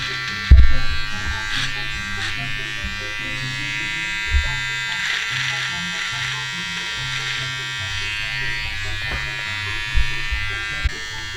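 An electric shaver buzzes steadily through a dad's long beard, close and loud, with brief bumps and knocks as it moves; children and an adult talk over the hum.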